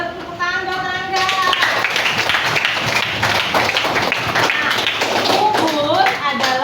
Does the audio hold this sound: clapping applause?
yes